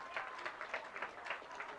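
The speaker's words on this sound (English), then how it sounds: "Fans applauding for both sides." Scattered applause from high school football fans in the stands during a Kemmerer vs. Lyman game, faint and distant, a thin patter of clapping with broadband crowd noise.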